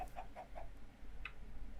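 Minecraft chickens give a quick run of four soft clucks followed by a single cluck, faint, over a low, steady background hum.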